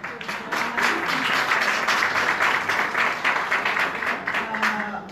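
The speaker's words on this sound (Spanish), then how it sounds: "un gran aplauso para todos vosotros" An audience at a morning Ganoterapia event in Murcia breaks into sustained applause, dense overlapping claps filling the room at a steady level for several seconds with a few voices faintly under it.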